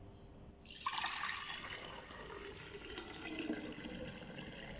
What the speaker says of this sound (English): So I'm just gonna pour it into my jar right now.